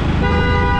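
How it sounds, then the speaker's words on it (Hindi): Busy road traffic with a car horn tooting loudly and close, a sustained honk over the rumble of many vehicles moving together. "इतनी सारी गाड़ियाँ एक साथ चल रही है"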